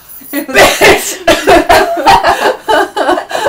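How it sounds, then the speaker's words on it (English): A series of short, sharp coughs from a person with pneumonia in quick succession, close and fairly loud, with brief gaps between bursts. "I coughed. I have a cough."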